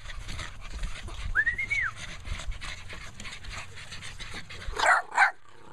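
Eleven-week-old puppies yip and whimper at close range over a low background rumble, with a high whine early on and a couple of sharper yelps near the end.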